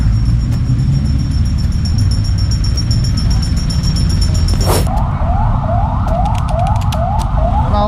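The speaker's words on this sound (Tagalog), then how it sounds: "Puro naririnig nyo, sobrang daming ano dito, dumadaan ng mga ambulansya, kaliwat kanan" Several emergency sirens, ambulances among them, wail as they pass through a busy road where tow trucks are clearing cars, a loud warbling siren dominating the second half over steady traffic rumble and a sharp burst near the middle.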